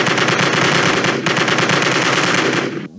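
Sustained automatic machine-gun fire in a video game, loud and close, rattles in one continuous rapid burst for nearly three seconds before cutting off abruptly.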